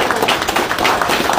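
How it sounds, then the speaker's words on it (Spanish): Crowd applause for Evo Morales at a meeting with neighbourhood councils and trade groups in Santa Cruz, loud, close clapping in an uneven, choppy rhythm with no voices over it. "Un fuerte aplauso para el hermano Evo Morales."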